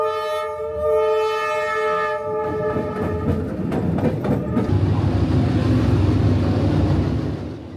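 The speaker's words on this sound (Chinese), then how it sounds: "大概等了10分钟，火车便呼啸而来。" A train horn blares with loud, steady tones, then the rumble and clatter of railcars rolling close by on Hanoi's narrow train street in Vietnam, the passing cars continuing to roar to the end.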